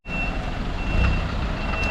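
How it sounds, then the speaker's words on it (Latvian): A truck gives off a reversing alarm, a steady high electronic tone that runs the whole time over the low rumble of an idling diesel engine in a work yard. "Dzird kā skan pilnīgi apakaļ gaitā mums."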